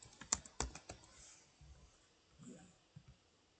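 Typing on a computer keyboard while filling in a WordPress.com website contact page: a few sharp, close key clicks at the start, then sparse, softer taps and faint rustles.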